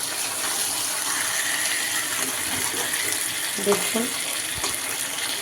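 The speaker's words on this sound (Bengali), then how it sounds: "এবার আমি জল দিয়ে দেবো।" Water is poured into a pan of fish curry in a home kitchen, making a steady rushing splash with some faint clatter. A voice speaks briefly partway through.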